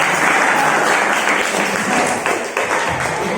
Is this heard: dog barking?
no